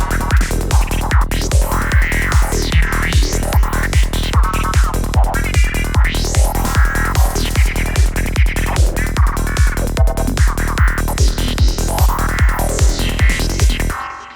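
Psytrance track built around an FM lead synth made in Pigments, with swooping, delayed lead lines over a steady pounding four-on-the-floor kick, rolling bass and drums, loud and continuous with no voices.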